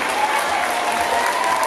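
A crowd in the stands at a high school robotics competition cheers and claps steadily throughout, a dense, sustained wash of applause.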